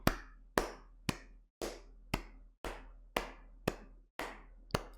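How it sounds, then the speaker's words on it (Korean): A single person claps their hands at an even, steady beat, ten sharp, close claps spaced about half a second apart in a quiet room, with no talking in between. "누군가 제 옆에서 저를 방해하기 위해서 일정하게 박수를 쳐요"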